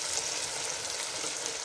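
Chicken pieces hit a pan of frying masala, setting off a bright, continuous close sizzle that holds steady throughout without speech.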